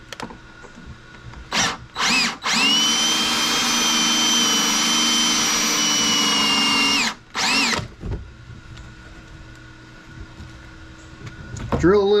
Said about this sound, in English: Drill a little bit and then we'll check.